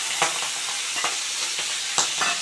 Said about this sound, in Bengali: বড়ার তেলের মধ্যে চিংড়ি মাছটা দিয়ে দেবো দুটো নুন হলুদ দিয়ে দেবো